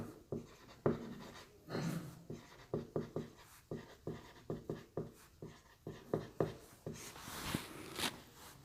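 A pen scratches across paper in quick, close strokes as cumulative frequency figures are written into a maths table, quiet and steady with short pauses between words and no talking.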